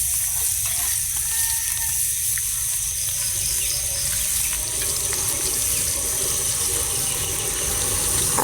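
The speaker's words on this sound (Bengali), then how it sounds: "পেঁয়াজ কুচি লাল লাল করে ভাজে নিচ্ছি" Chopped onion frying in oil, with cumin, cardamom and cinnamon, for a koi fish curry: a steady, dense, close hiss of sizzling that runs on without pause.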